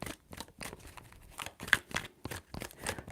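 Tarot cards being shuffled by hand, a quick run of soft rhythmic riffling and slapping bursts, close and quiet, with no talking.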